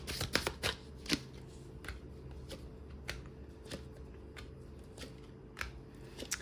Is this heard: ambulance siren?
no